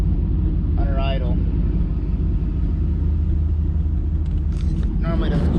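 Car engine idling rough with a multiple-cylinder misfire, shaking more than normal: a loud, steady low rumble throughout, with a voice talking briefly over it near the start and end.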